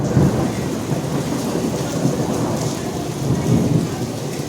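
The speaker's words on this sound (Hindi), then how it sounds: "बादलों की गड़गड़ाहट शायद आप सुन पा रहे होंगे" Heavy rain pouring down steadily with thunder rolling through as low, swelling rumbles, loud and continuous without any talk.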